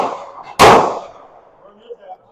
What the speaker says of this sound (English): I'm going to be shooting some Tannerite with the Ruger Mini 14